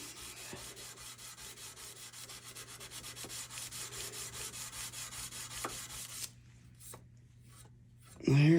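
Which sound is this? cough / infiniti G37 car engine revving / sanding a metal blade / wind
sanding a metal blade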